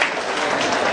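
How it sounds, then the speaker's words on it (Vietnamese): An audience at a school alumni reunion applauds a performance act, a brief dense burst of many hands clapping at once. "Vỗ tay đi, tiết mục là rất là độc chiêu."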